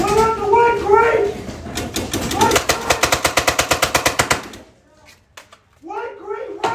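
Paintball markers fire in a fast, rhythmic volley during an outdoor paintball game, loud and fairly close, with players shouting over the shots before and after.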